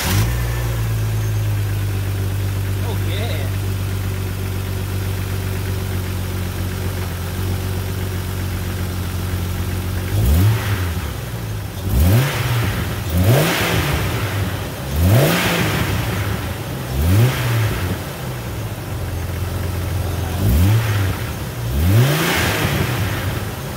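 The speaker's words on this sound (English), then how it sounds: "So, we're gonna start her." A 2000 Jeep Cherokee XJ engine, fresh from a spark plug change, runs at a steady idle, then gets several sharp throttle blips that rise and fall, each rev repeating every couple of seconds, close and loud with no talk.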